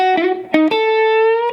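An electric guitar lick from a solo: a few plucked notes with a sliding shift, then a long sustained note ringing out clearly with no talk.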